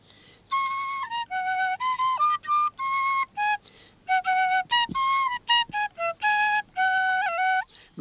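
A Slovak folk tune is played on a shepherd's whistle (píšťalka) from Ľubiša, with bright, clear notes in short, detached phrases, close and alone with no talking.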